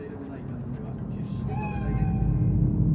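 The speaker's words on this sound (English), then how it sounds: "Chill, just a cat." A cat meows in Cyberpunk 2077, giving a couple of short, wavering cries that rise out of a steady, low ambient rumble that grows louder toward the end.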